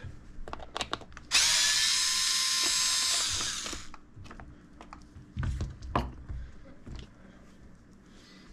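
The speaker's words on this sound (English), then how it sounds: "Let's pop one of these wheels off and have a look." A small electric driver whirs loudly for about two seconds while removing a wheel from an MN222 RC crawler, followed by light plastic clicks and handling noises of parts close by.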